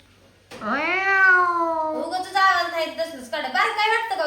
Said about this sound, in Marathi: माझा मांजराला भुका लागते